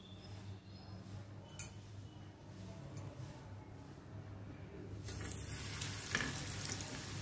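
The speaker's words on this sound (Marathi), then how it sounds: "आता आपण कर्ली फ्राय करून घेऊया" Pieces of karli fish fry in hot oil over a medium flame, a soft steady sizzle that swells noticeably louder partway through, close but fairly quiet, with a faint clink early on and no speech.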